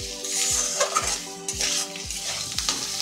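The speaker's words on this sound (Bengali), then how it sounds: "আলু আর সব মশলা আরো 10 মিনিট মতো আস্তে চুলা দিয়ে ভালো করে ভাজবো।" Potatoes and spices fry over a low flame in a pan with a soft sizzle, while a spatula scrapes and taps the pan in a quick, regular rhythm about twice a second.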